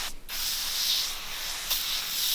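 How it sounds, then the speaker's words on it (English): A spray bottle of fabric cleaner hisses in a long, steady burst onto a car seat after a short pause, close and fairly loud, with no voices. "So spray this all over it."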